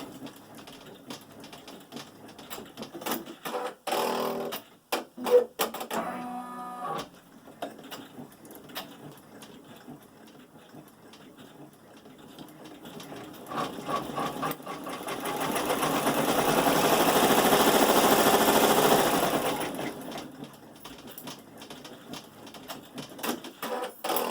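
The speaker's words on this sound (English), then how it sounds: "So first thing it's going to do is stitch the outline to where the jar is going to go." Sewing machine stitching the outline of a canning jar applique design, running in bursts with short pauses, then a long steady loud run before stopping.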